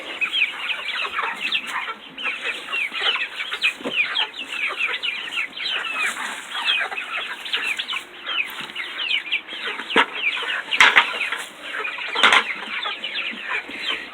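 A flock of chickens in a hot backyard coop clucks steadily while pecking at a fresh bucket of chickweed and clover, with busy overlapping calls close by and occasional wing flaps.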